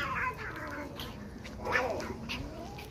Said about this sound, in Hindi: इस जगह की ये बिल्ली हैं सारी